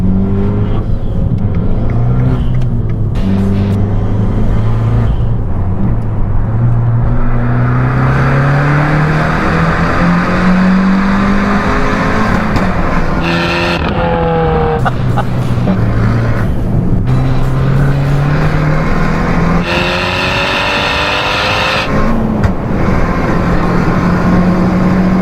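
An Abarth fitted with a new turbo making about 270 hp accelerates hard, its engine note climbing through repeated rising pulls between gear changes, loud and close from inside the car over constant road noise.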